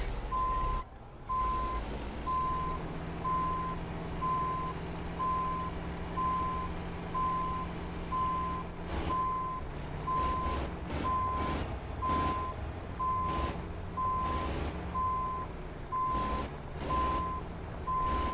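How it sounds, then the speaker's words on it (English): A truck hauling a backhoe reverses with its backup beeper giving a long run of evenly spaced, piercing beeps over a rumbling diesel idle, punctuated by clanks and knocks, close by and with no talk. "I don't know when I turned the backup beeper on"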